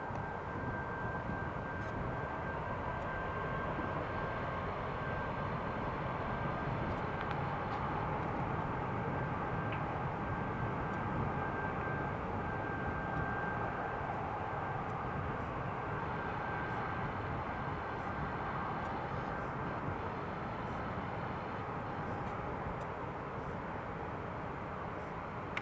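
A Ryanair airliner taking off from Newcastle International Airport toward Malaga, a continuous distant engine roar that holds steady and even throughout, heard alone without voices.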